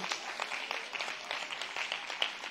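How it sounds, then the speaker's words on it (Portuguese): A church congregation applauds in praise during a women's worship service, a dense steady wash of many hands clapping together at close range for a few seconds without a break. "Vamos dar um aplauso ao Espírito?"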